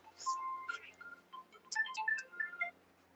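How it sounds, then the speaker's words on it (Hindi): A phone ringtone plays a melodic sequence of short electronic tones in an irregular tune. It is fairly quiet and heard alone, without speech. "फोन भी ऐसे टाइम पे बजता है"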